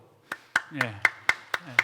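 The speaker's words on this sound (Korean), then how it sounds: "먼저 우리 한번 박수로" During a Sunday church service, seven sharp, evenly spaced claps ring out close by in a quick steady rhythm, with a voice speaking over them.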